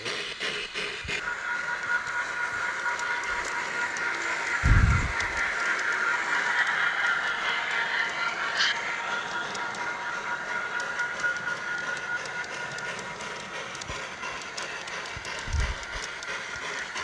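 Garden railway model trains run outdoors with a steady rolling rattle and hum, occasional soft clicks and thumps over the track, no voices.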